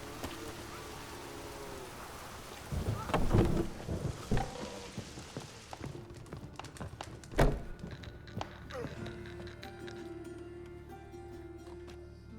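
Rain falls steadily with heavy thunder rumbles in The Witcher 3, two louder cracks standing out near the start and middle, while voices talk over the storm.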